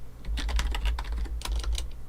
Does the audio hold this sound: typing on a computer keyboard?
yes